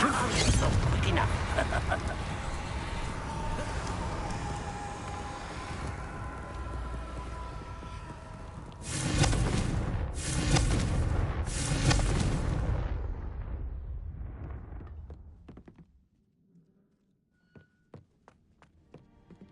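Confringo blasting spells exploding in the video game Hogwarts Legacy on PS5: a dense roar of game sound builds into several loud booming bursts, then fades to near quiet with a few faint clicks.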